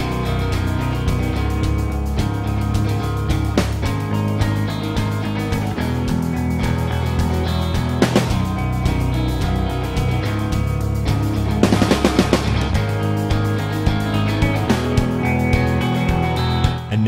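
A full, dense band mix with steady drums and sustained guitars, played loud and continuous without any mastering processing applied, no voices.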